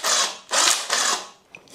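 DeWalt battery pruning shears cut through a thick branch in three loud, grinding mechanical bursts, each about half a second long. A short click follows, then a fourth burst begins.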